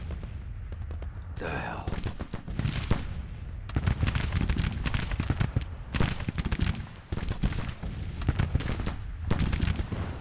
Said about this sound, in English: Keep them in range. Keep shooting them.